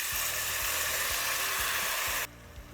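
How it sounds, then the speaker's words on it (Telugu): Lentils sizzle loudly in hot oil with a dense, crackling hiss that cuts off abruptly near the end. "తాలింపులో పప్పుని మంచి ఫ్రై చేయాలి"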